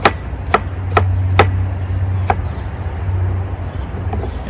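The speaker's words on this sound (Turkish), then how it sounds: "soğanımızı küçük küçük doğruyoruz" A knife chops sharply through onion on a board, a handful of distinct irregular cuts over a low steady hum, close and crisp.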